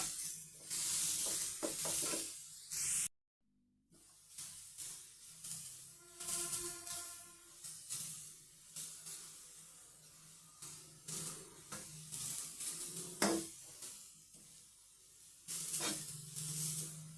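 Grated carrot frying in a nonstick pan for carrot halwa, with soft sizzling and intermittent scraping stirs, moderately quiet with a brief gap partway through and no talking.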